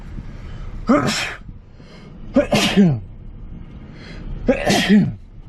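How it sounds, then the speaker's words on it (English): Three loud sneezes close to the listener, each a sharp breathy burst, spaced roughly a second and a half apart. "I gotta sneeze."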